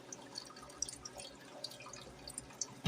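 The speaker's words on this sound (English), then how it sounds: "That little water bin back there came back up, ready to be filled again" Water dripping into the bin of an IGLOO ice maker, soft irregular drips and trickles at low level over a faint hum, with no talking.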